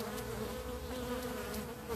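Honeybees at a hive entrance in spring, a steady, close, dense buzzing hum of many insects with no voices.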